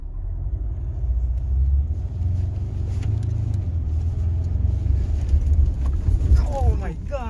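Deep steady engine rumble of a Ford Ranger Raptor pickup driving an off-road course, heard from inside the cab with people talking over it throughout.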